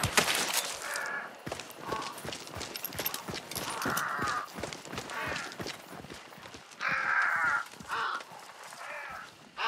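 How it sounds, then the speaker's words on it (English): Crows cawing in a video game, several loud harsh caws in bursts over a rhythmic clip-clop of hooves, with no talking. "You just relax, birds."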